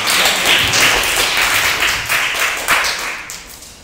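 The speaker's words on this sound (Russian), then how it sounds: "Ваши аплодисменты." Audience applause at a quiz night, a dense steady wash of many hands clapping close and loud throughout, fading slightly toward the end.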